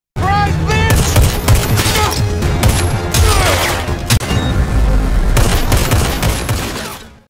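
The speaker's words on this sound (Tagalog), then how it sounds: "binunot ni Russell ang kanyang baril at pinaputukan si Miguel, na agad namang gumanti" Rapid bursts of gunfire crack back and forth in a loud, sustained exchange of shots, dense and continuous with short irregular gaps.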